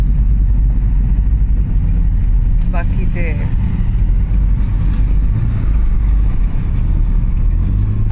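Busy city road traffic entering Kuala Lumpur, Malaysia, a continuous rumble of cars driving and engines humming close by, with someone talking briefly over it.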